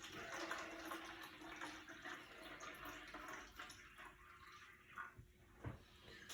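Water poured into a carnivorous Pinguicula plant terrarium makes a soft, trickling splash that starts fairly steady and thins into quieter, sporadic drips and small pours, fairly faint and close.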